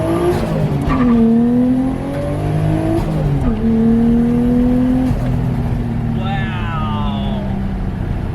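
A Nissan Skyline R33 slides sideways with long, wavering tire squeals over a revving engine, loud and close, with voices talking over it.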